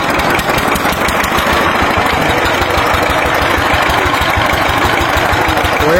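A power tiller engine with a damaged rear wheel runs steadily close by on a winter morning, a loud rapid thumping chug that continues evenly throughout with no talking.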